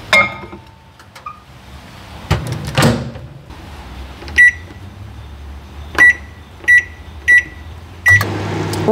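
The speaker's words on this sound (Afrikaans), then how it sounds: "Ons gaan nou die nat bestanddele in die mikrogolf sit en sag maak totdat dit baie vloeibaar is" A microwave oven softening wet muesli ingredients: clunks and handling noises, then a run of sharp electronic button beeps at irregular intervals over a low, steady hum.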